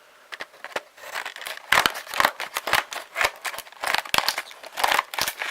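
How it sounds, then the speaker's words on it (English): Scissors cut open toy figure packaging up close, a quick irregular run of sharp snips mixed with crinkling plastic and cardboard, loud and clear with no talking. "Let me grab some scissors here, make it easy for me to open."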